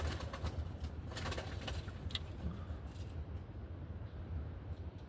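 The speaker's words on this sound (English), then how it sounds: "I'm looking at 2 pigeons. They're trying to mate." Pigeons coo softly during a mating attempt, low repeated throaty calls sitting in steady outdoor background rumble, faint and fairly distant, with a few sharper sounds above.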